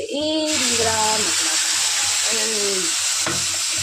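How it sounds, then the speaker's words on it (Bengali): Onions frying to a deep red-brown in a modest amount of oil, giving a steady broadband sizzle throughout, with a voice talking over the hiss for most of the clip. "পেঁয়াজটা খুব লাল লাল করে ভাজা হয়ে গেছে"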